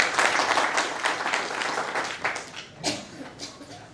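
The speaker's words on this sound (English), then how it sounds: "let's give him a round of applause." A hall audience claps to welcome an ambassador at a South Africa-China engagement forum, with dense, lively applause that starts strong and gradually thins toward the end.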